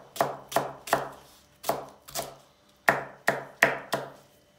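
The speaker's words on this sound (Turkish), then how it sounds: "pırasalarımızı böreklik gibi doğrayacağız" A knife chops leeks on a board, cutting them into small pieces; about nine sharp, close strikes land in an uneven rhythm with short pauses between them.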